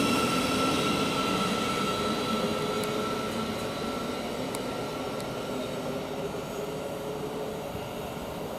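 A Bedford to Brighton passenger train pulls out of Luton Airport Parkway station, a steady rumbling roll with a faint whine that slowly fades as it draws away, with a few light clicks on top and no talking.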